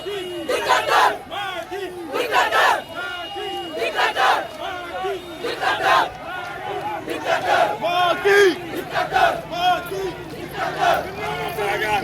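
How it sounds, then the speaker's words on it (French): A large crowd of protesters marching in Ziguinchor, Senegal shouts and chants in loud, continuous waves of overlapping voices, with rhythmic bursts of collective cries throughout. "il y a une foule très abondante qui se manifeste"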